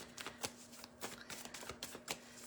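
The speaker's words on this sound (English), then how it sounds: "Just gonna give the cards a good shuffle." A deck of tarot cards is shuffled close by, a run of quiet riffling flutters and soft slaps in an uneven rhythm, heard alone with no talking.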